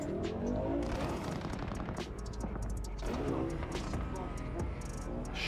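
Rapid gunfire rattles through a firefight in the video game Cyberpunk 2077, with dense overlapping bursts and game voices over the shooting.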